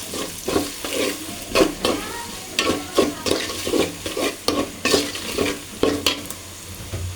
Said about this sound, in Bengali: এখন আমি মশলা ভালো করে সব কিছু ভেজে নিচ্ছি